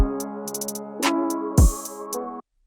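A short beat plays on an MPC with clipped, abrupt 808 bass notes including a deep sliding low hit, alongside crisp hi-hats, cutting off suddenly at the end.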